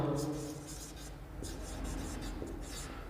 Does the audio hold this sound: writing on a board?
yes